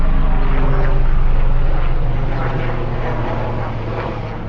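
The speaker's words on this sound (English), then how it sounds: "the helicopter sounds low" A helicopter in flight above a Brooklyn shore road, a steady, loud rotor and engine drone with low throbbing that fades slightly as it passes.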